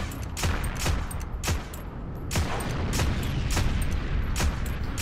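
Single-fire rifle shots with an M1/M2 scope in the video game Heroes and Generals, roughly eight sharp cracks at irregular intervals over a constant rumble of distant battle gunfire, loud and close.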